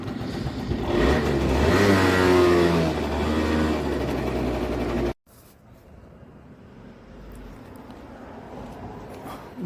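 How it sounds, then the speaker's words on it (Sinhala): A small vehicle engine starts and revs loudly for several seconds, the pitch climbing and holding, then cuts off abruptly, leaving quiet outdoor background. "අපි බාන්ඩි ස්ටාර්ට් කරනවා."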